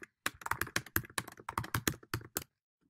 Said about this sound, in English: But I also can go ahead and do some typing.